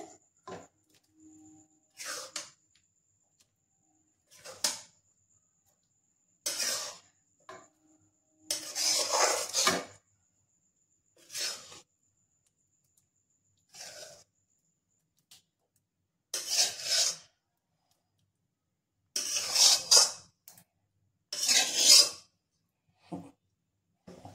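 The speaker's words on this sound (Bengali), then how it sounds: "এবার আমি তরকাটা ঢেলে নিচ্ছি" Egg tadka poured and scraped out of a pan with a spoon in a quiet kitchen, heard as separate close bursts of metal scraping and clinking with silent gaps between.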